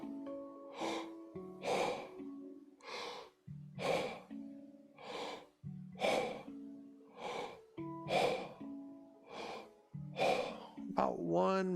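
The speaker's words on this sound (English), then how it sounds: "we're going to be breathing through a circular mouth" Rapid breathing in and out through an open, rounded mouth as a stress-relief exercise, a steady rhythm of about one inhale and one exhale each second, close and breathy, with a voiced tone through each breath.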